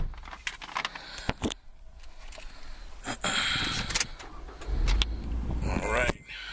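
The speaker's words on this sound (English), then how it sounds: "let me get the car started for you" A 2015 Scion tC being started: clicks and short mechanical noises, then the engine cranks and catches into a low idle rumble, with people speaking intermittently nearby.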